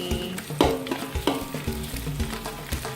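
Wet-style fried noodles (mie goreng basah) stirred in a hot pan, with steady sizzling and frying under repeated scraping and knocking of a utensil against the pan, close and fairly loud without speech.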